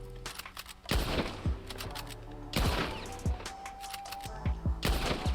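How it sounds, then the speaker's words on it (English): Bolt-action rifle fire in Red Dead Redemption 2: several loud, sharp shots spaced a second or more apart, each followed by metallic bolt-cycling clicks, over steady game ambience without talk. "And now the bolt action."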